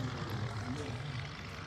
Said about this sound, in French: le Socata TB30 Epsilon. C'est toujours pour de l'entraînement militaire.